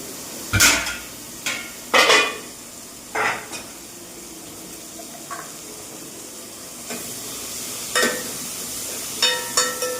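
Ingredients being sautéed in a pan for a Tamil kara kuzhambu: a soft steady sizzle runs underneath a handful of sharp spoon knocks and scrapes against the pan, spaced irregularly.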